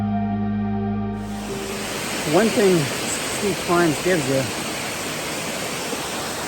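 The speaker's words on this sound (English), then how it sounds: "we've been experiencing a lot of waterfalls here in New Hampshire" A steady rushing roar of a waterfall in New Hampshire fills the scene, with a person speaking briefly over it.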